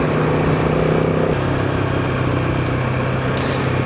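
Royal Enfield Himalayan 450 motorcycle engine braking on a country road, a steady loud close engine drone whose pitch drops partway through as the revs fall.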